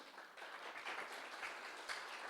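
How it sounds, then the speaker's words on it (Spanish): Church congregation applauding for the Lord, a steady wash of clapping from many hands held at an even level throughout, with no talk over it. "Dale un aplauso al Señor."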